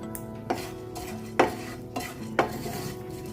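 Spices, sesame, curry leaves and salt are dry-roasted in a pan, a spoon scraping and stirring in a few distinct strokes with faint crackling between them, close and fairly quiet.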